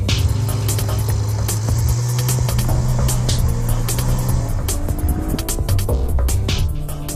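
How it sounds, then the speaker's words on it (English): A dual-clutch high-performance car with an expansion-chamber exhaust accelerates hard on the road, engine note climbing through rising harmonics with quick gear changes, loud and close throughout. "This is one of the most civilized driving dual-clutch high-performance cars I've ever driven."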